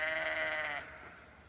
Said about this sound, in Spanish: El sonido de las ovejas rebota en todo el pueblo